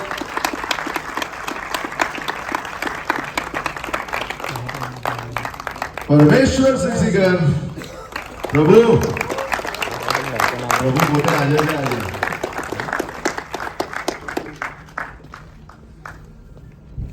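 An audience at the Jeev film premiere night claps as the actors are called up. Steady applause runs throughout and swells midway, with an announcer speaking over it.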